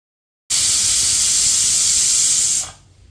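Steam hisses loudly and steadily from a pressure cooker being depressurised after cooking chole with potatoes, a close, continuous broadband rush lasting over two seconds before cutting off abruptly.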